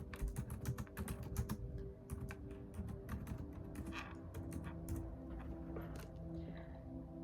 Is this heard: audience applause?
no